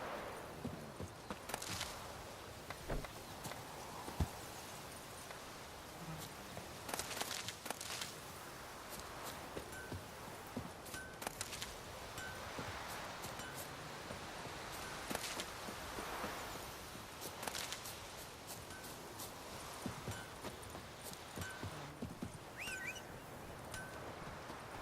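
A horse gallops in The Witcher 3, with quiet clip-clop hoofbeats, rustling and occasional birdsong in the game world, all faint and continuous.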